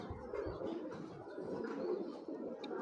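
Hammer pigeon cooing, soft low rolling coos repeating steadily throughout, faint and close with some room noise.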